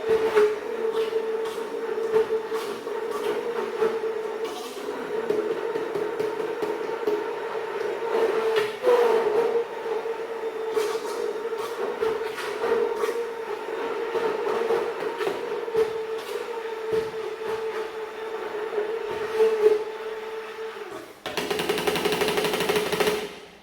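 A blender purees a basic tomato sauce, its motor giving a steady droning whine for about twenty seconds, followed by a brief, harsher, louder burst at the end, with no voices.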